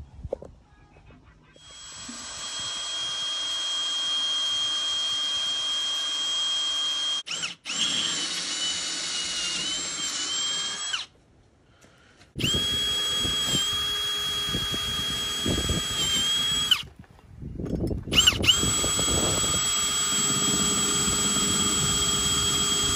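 A power drill whines loudly and steadily in long runs, drilling into the hull of a Bayliner cuddy 210 boat, cutting out briefly between bursts before starting up again nearby.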